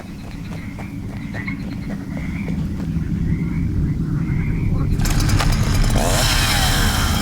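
A chainsaw in the video game The Land of Pain roars to life after several seconds of low croaking, rumbling ambience, then stays as a loud, harsh buzzing snarl through the end.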